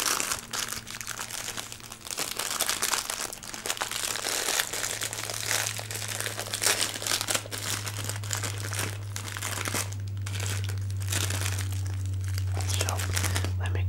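A packet of little crackers for clam chowder crinkling and rustling up close in repeated soft bursts, with a low steady hum underneath.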